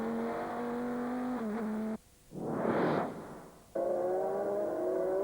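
GT race cars from a 2000 FIA GT race scream through a chicane close together, a steady high engine note cut briefly by a whooshing pass before the onboard engine drone returns.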